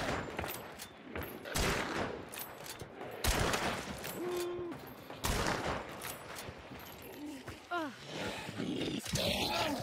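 Gunfire from high velocity ammo in the game Hunt: Showdown, several sharp, loud shots scattered irregularly across the stretch, with players talking over and between them.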